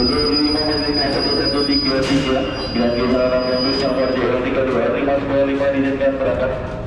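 An electric KRL commuter train at a platform of Manggarai station sounds steadily and loudly throughout, with a continuous rumble, rail noise and a sharp wheel squeal near the middle, beneath station ambience.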